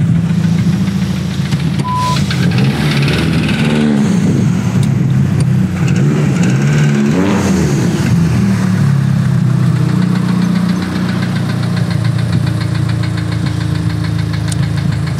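A car engine with major internal damage runs steadily at idle, a loud, continuous low rumble with rough knocking throughout and no one speaking.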